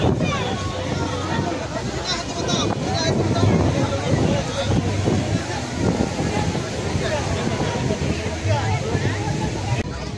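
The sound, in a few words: strong sea waves at New Digha beach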